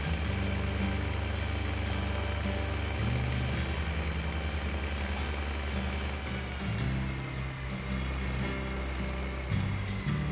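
A tractor engine in Farming Simulator 15 drones steadily while pulling an implement, a loud, continuous low rumble with a shifting pitch and no letup throughout.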